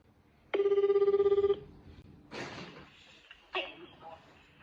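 A telephone placed on a call to Japan rings once in a loud, buzzing burst of about a second, followed by softer rustling and a sharp clack.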